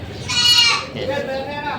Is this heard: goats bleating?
yes